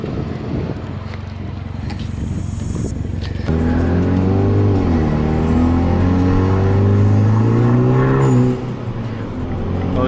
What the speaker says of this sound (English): That blow off valve's nasty.